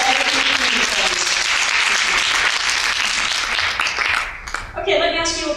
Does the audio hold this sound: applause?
yes